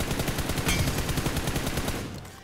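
A close-range gun fires in rapid automatic bursts in the game BGMI, a dense, loud stream of overlapping shots that tapers off at the end.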